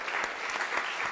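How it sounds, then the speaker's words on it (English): An audience claps after presentations at a corporate event, dense steady applause with no breaks, heard at moderate level from within the room. "Why don't we give them another round of applause?"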